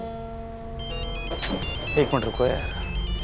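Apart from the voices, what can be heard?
phone ringtone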